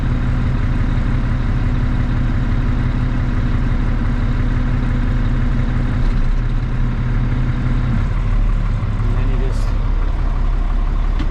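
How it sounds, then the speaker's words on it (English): A 1975 Kenworth W900A truck idles with a steady, loud diesel rumble while its PTO runs the hydraulics to raise the dump bed, the engine note shifting slightly partway through; someone speaks over it. "you just pull this back to raise, and let your clutch out, and the old bed will go up"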